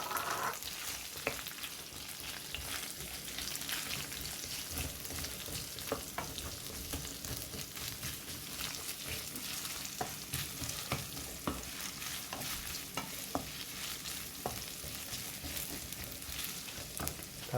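A bowl of chopped onions sizzles and fries steadily in a pan, a continuous crackling hiss with occasional stirring clicks, moderately quiet and heard alone.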